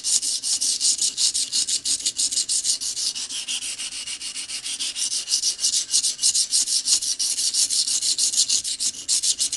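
A knife blade is drawn repeatedly across a sharpening stone while its edge bevels are shaped, giving a close, steady run of rhythmic gritty scraping strokes with no pauses.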